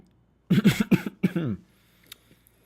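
A single harsh cough breaks out in a quick burst of rough bursts, then trails off into near silence.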